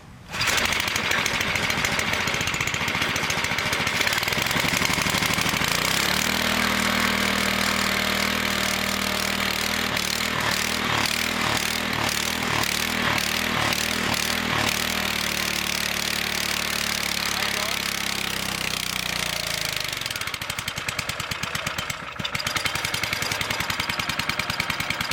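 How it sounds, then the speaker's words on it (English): A homemade 12V generator engine with no exhaust fitted runs loud and harsh, a close, continuous raw rattling clatter that holds steady for about twenty-five seconds, with its pitch shifting up and back down partway through. "you'll hear it because there's no exhaust on it"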